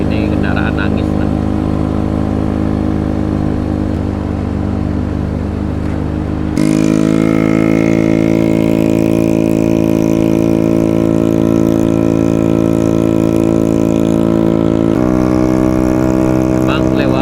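Vehicle engines labour loudly and close on a steep road route, a sustained droning hum that shifts to a higher, harsher pitch partway through; a voice talks at times over the engines.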